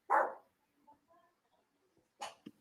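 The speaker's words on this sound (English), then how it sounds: "Hey, stop barking." A single close, loud dog bark, followed by faint whimpering and a second short bark or yip about two seconds later.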